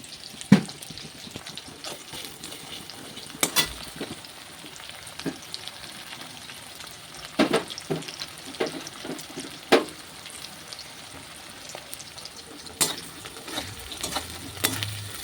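Onion, chilli and garlic fry in a pan with a continuous close sizzle, broken by repeated sharp scraping clatters of stirring at irregular intervals.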